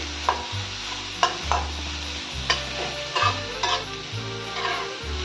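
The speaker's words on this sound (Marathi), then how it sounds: "शिमला मिर्च घातल्यानंतर सगळं एकत्र करून घेऊया।" Chopped bell peppers (shimla mirchi) stirred in a pan for bhaji, with a steady sizzle under repeated scraping strokes of a spoon against the pan, about one every second, close and clear.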